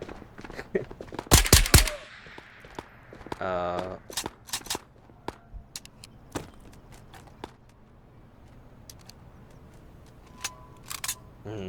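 MAC-10 submachine gun fire in the VR shooter Ghosts of Tabor, a short rapid burst followed by scattered single shots and mechanical clicks, with a voice talking intermittently.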